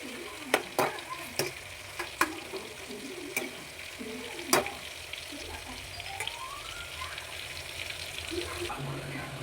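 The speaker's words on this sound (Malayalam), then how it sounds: "അപ്പോൾ നമുക്ക് കുറച്ചിട്ട് വറുത്തെടുക്കാം." Fish frying in a pan and being stirred, with a continuous low sizzle broken by a series of sharp scraping clicks from the spatula, close and moderately loud.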